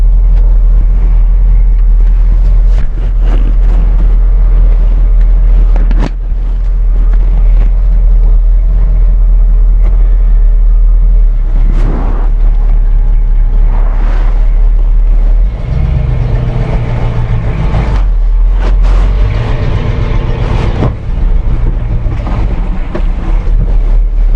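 A car driving along a road on the way to collect engraved shifter knobs for an NP229 transfer case, giving a steady loud low rumble of engine and road noise with wind buffeting throughout.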